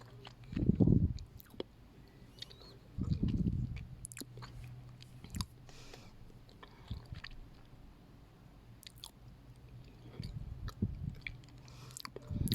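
Someone chewing white Bashkir forest clay, a fatty, slightly sticky clay, in three close, soft bursts of squishy mastication separated by quiet pauses, with no talking.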